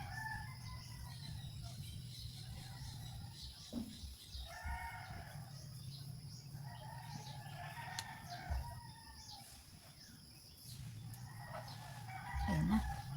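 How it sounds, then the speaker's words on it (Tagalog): Chickens cluck in repeated bursts with a rooster crowing, over a low steady background hum; the bird sounds come and go throughout. "Yung background na excuse yung mga tinig ng mga manok."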